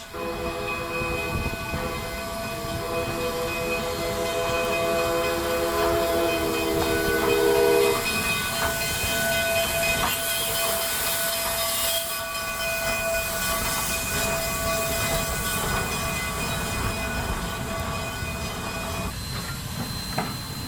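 A Durango to Silverton steam train rumbles steadily at a railroad station with hissing steam and clanking rail noise, loud and close, with a long whistle-like tone sustained through the first part.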